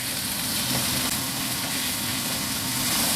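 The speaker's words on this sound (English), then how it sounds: "I'm gonna add the pork in and turn high heat" Pork frying over high heat in a pan with golden garlic and chili, a steady, even hiss of sizzling oil with no pauses.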